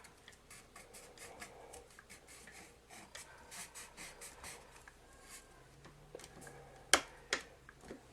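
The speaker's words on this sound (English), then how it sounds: "Rub over it, make sure it's down." Vinyl decal being rubbed down onto an epoxy tumbler, a soft, scratchy friction sound repeating in quick irregular strokes at close range, with a couple of sharper taps near the end.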